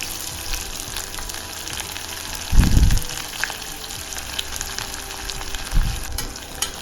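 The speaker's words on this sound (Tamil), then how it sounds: "இப்போது இதை நல்லா வதக்கி எடுத்துக்கலாம்." Two long-sliced onions sauté in hot oil in a pan, giving a steady close sizzle with two louder stirring scrapes and thumps partway through.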